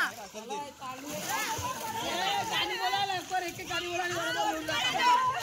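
People splash about in water nearby, sloshing and splattering while several voices chatter and call out over the commotion.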